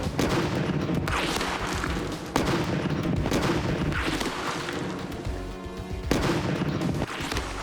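An original American Civil War smoothbore gun firing round shot goes off in a few heavy booms, each one a loud, sharp blast that decays into a long rolling roar, spaced a couple of seconds apart with no speech.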